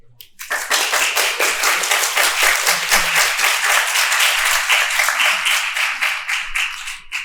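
A crowd applauds steadily for several seconds, dense clapping starting abruptly and holding at a strong, even level before easing slightly at the end.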